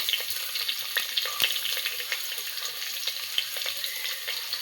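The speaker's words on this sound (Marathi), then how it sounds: "कांदा आपल्याला चांगला परतून घ्यायचा आहे गुलाबी रंगावर।" Finely chopped onions sautéing with whole spices in oil for a dry village-style Maharashtrian chicken, a soft continuous sizzle with occasional light stirring clicks, close and moderately quiet.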